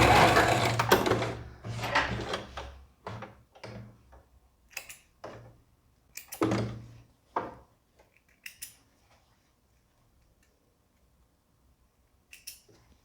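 Sewing machine running a seam along the wrong side of fabric to close an elastic casing, with backstitches at the start and end, heard as several short stitching bursts separated by pauses and handling noises.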